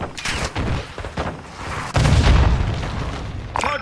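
A gun run airstrike in a shooter video game, rapid bursts of heavy gunfire and booming impacts in uneven clusters, loud and close, with a big thudding blast in the middle.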